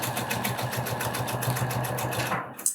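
A sewing machine stitches a tubular sleeve hem in a steady, fast, even whir that runs throughout and stops abruptly at the end.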